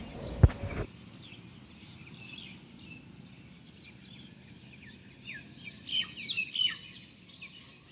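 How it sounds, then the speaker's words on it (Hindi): Sparse bird chirps and short calls in a quiet outdoor setting, faint at first and a little busier toward the end, after a brief knock at the start. "वातावरण में चिड़ियों की चहचहाहट के बीच"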